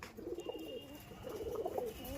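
Pigeons cooing softly nearby in a loft in Madanpur, Kurukshetra, Haryana, in two short bursts of low, throaty coos over faint background noise.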